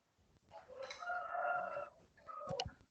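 A rooster crows once, a fairly close, drawn-out call followed by a short second burst, with no talking over it.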